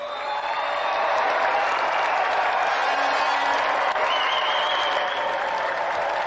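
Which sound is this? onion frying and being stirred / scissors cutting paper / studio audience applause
studio audience applause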